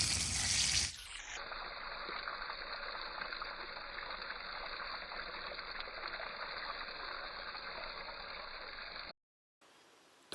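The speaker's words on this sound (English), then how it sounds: "I'm going to go wash it now anyway." Running tap water washes a slightly rusty Chinese mass-produced watch, a steady broadband gush that holds evenly for about eight seconds after a brief louder burst, then cuts off abruptly.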